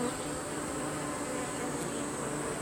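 A steady, dense insect hum of honeybees buzzing around a hive, continuous and fairly close, with a high whine running through the broadband drone and no clear breaks.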